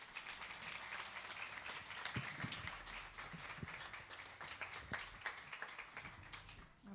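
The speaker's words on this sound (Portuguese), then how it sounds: "Recebe a serva de Deus com palmas." A church congregation applauds as a servant of God is welcomed forward, a faint, steady patter of many hands clapping at a distance with occasional louder claps and a low rumble beneath.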